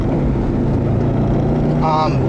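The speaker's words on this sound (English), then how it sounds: "And what you're also hearing pretty loudly is the exhaust." A 2012 Subaru Impreza WRX STI's 2.5-liter turbocharged boxer four-cylinder runs with a loud, low, steady exhaust drone throughout, with a brief higher tone rising near the end.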